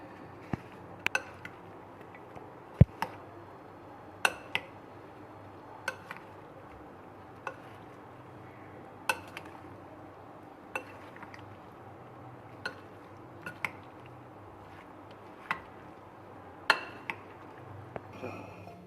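A spoon clinks against a bowl while mixing cream fruit chaat with pomegranate and dates, a quiet, irregular series of sharp taps and chinks with faint stirring between.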